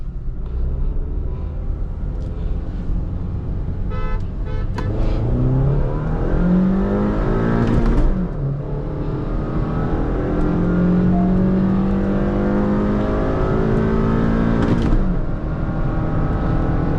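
A Hyundai Verna 1.5L diesel and a Honda City 1.5L petrol rev and accelerate hard in a drag race from a 20 km/h rolling start, rising in pitch through the gears, loud and close with a steady roar.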